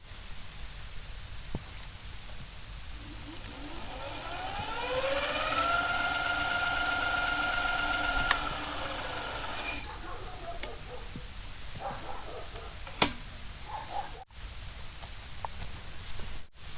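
The 750W motor of an ENGWE EP-2 PRO electric bike spins up on the throttle with a rising whine. The whine holds a steady pitch for a few seconds, then cuts off, leaving quiet ambient noise and a few clicks.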